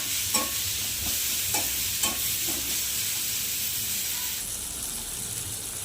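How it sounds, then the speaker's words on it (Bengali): Spice paste of salt, turmeric and tomato frying in a pan for a pointed gourd and fish head curry, with a steady close sizzle and a few soft spoon-stirring scrapes throughout. "নুন হলুদ দিয়ে মশলাটা কষাবো যতক্ষণ না টমেটোটা গলে যাচ্ছে।"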